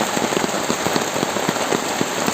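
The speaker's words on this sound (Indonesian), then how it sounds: "ini posisinya hujan cukup deras" Heavy rain drums steadily on a badly damaged hut roof, a dense continuous patter with scattered louder drips and splats close by, no voices.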